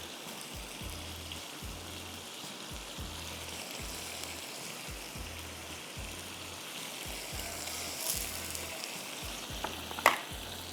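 Baby corn cooks in a sizzling pan for coconut curry pasta, giving a steady, even frying hiss over a low rhythmic pulsing hum, with a sharp clink near the end.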